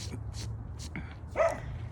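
Dogs barking in a sunny backyard on a winter day, a few short separate barks and yips spread across the moment, moderately close, over a low steady background hum.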